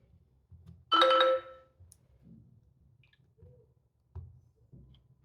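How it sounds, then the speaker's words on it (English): A short bright electronic click-chime from an Infinix Zero 5G phone screen locking or unlocking, sounding once near the start and standing alone over quiet room noise, followed by faint handling sounds. "when we will lock our phone and when we will unlock our phone, so you can use this screen lock and unlock sound"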